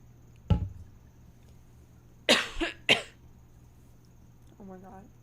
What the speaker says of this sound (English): I'm about to cough, so I need to drink some water.